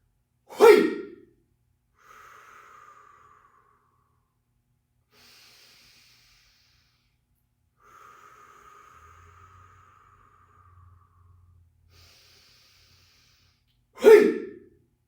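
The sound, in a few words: qigong breathing in and out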